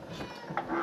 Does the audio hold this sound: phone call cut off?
no